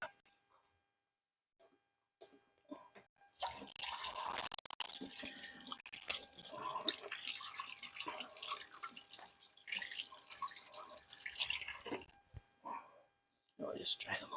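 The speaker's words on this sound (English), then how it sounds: "Now, I'll just give my hands a little wash." Running water splashes steadily as hands are washed under a tap in a home kitchen, a fairly loud continuous hiss lasting about nine seconds after a quiet start.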